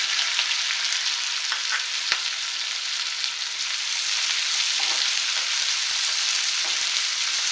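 Garlic, green chillies and onion frying in a pan, a dense, steady sizzle with occasional sharp pops and crackles, close and continuous without talking.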